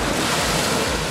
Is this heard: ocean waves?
yes